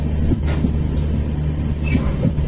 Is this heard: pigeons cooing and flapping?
no